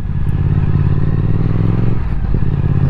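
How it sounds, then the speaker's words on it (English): A 2021 Triumph Speed Twin motorcycle's exhaust runs steadily and loudly up close, a deep continuous engine drone with a slight shift near the end as the throttle changes, riding through a village. "The exhaust does sound nice."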